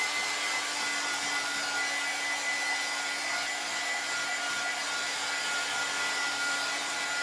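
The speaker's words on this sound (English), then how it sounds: "I'm going to hit this with the dryer just to make sure" A hair dryer blows steadily over watercolour paper, a constant loud whooshing roar with a faint whine that runs unbroken and alone for the whole stretch.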